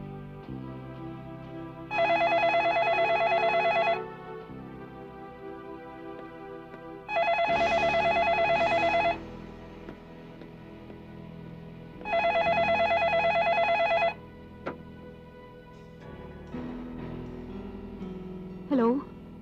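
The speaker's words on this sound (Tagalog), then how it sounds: "Hindi mo ba sasagutin ng telepono?" A telephone rings in repeated bursts of a bright electronic tone, three rings separated by pauses, with room sounds and movement between them.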